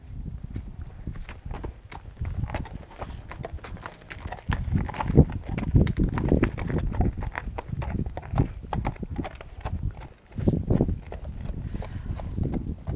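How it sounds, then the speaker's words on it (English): Horse hooves beat out a quick, regular two-time trot on firm ground during a veterinary soundness examination, the clatter growing louder and softer as the horse moves away and back, without speech. "examining the horse in trot, both going away from us"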